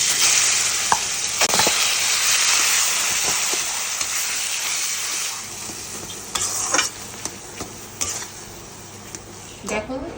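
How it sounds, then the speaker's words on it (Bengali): Soaked lentil paste being stirred and fried in oil in a kadai for a home-style Bengali dhokar dalna, with a steady close sizzle and scattered scrapes and clinks of a spoon against the pan. "ডালটা ভিজে গেছে, এইবার ওটাকে একটু নাড়াচাড়া করে নিই। কড়াইতে এটা নাড়াচাড়া করতে হবে।"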